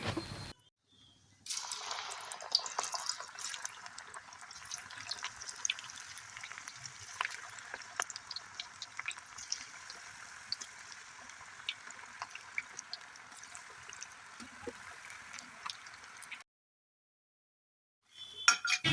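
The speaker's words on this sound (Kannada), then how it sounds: "ಈಗ ಇದನ್ನು ಎಣ್ಣೆಯಲ್ಲಿ ಬಿಡ್ತೀನಿ ಸ್ವಲ್ಪ ಸ್ವಲ್ಪನೇ ಕೈಯಲ್ಲಿ ತಗೊಂಡು ಎಣ್ಣೆಯಲ್ಲಿ ಬಿಡಬೇಕು" Spoonfuls of cabbage and tagate soppu pakoda batter dropped into hot oil: a soft, steady sizzling hiss with scattered small crackles that runs for about fifteen seconds, then stops abruptly.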